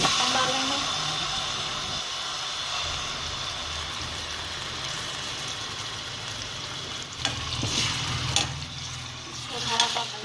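Chicken for shami kabab sizzles and fries steadily in a hot pan, a constant loud hiss, with occasional scraping stirs toward the end.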